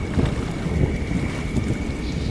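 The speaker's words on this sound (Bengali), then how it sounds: "চারপাশ থেকে দমকা হাওয়া দিতে শুরু করল।" Gusty storm wind from a cartoon sound effect roars as a steady, dense, loud rush of noise with no voices.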